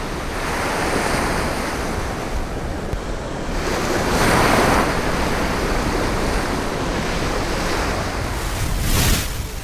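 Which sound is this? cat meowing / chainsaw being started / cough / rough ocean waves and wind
rough ocean waves and wind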